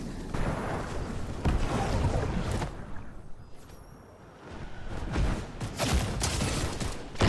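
Shockwave explosions in the video game Fortnite go off as a string of loud, booming bursts close by, with a short quieter lull in the middle before more blasts follow.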